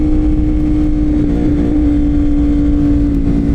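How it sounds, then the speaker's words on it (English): A motorcycle doing a small burnout in light rain, its engine revving hard and holding a loud, close, steady drone with a strong hum throughout. "you can get a little burnout going"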